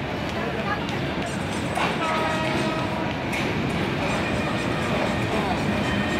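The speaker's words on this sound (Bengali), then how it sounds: "আর এই যে ট্রেন আসছে," A passenger train arrives at a crowded station in Bangladesh, its loud continuous rumble and rattle filling the whole stretch, with crowd hubbub and occasional voices beneath.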